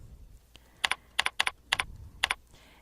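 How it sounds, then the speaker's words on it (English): Keys clatter on a computer keyboard as text is typed into a web page form, with several quick clusters of close, crisp keystrokes separated by short pauses in a quiet room. "and then you can type in anything you want as your text."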